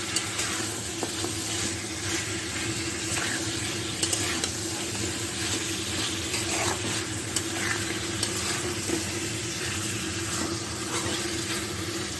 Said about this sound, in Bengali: এখন গোস্তগুলো ভালোভাবে কষাবো